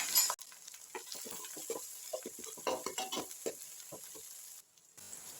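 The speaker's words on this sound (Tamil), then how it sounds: "தக்காளியை நம்ம சேர்த்து வதக்கிடலாம் கருவேப்பிலை கொஞ்சம் எடுத்துருக்கோம் அதையும் சேர்த்து நல்லா வதக்கி விட்டுக்கலாம்" Onions, tomatoes and curry leaves sauté in a pan for a village-style fish gravy, giving a close, steady sizzle broken by repeated stirring scrapes and clinks of a utensil against the pan, with a brief quiet gap near the end.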